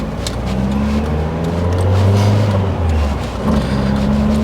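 A Lotus Esprit GT3 pulls away from a standstill, its engine droning low and then rising in pitch as it gathers speed, heard close from inside the car with a brief dip between gears.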